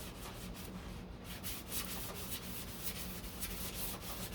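A 1969 Corvette C3 deck lid is hand sanded with 220 grit sandpaper, giving a continuous close, rhythmic rasping rub with repeated back-and-forth strokes and no talk.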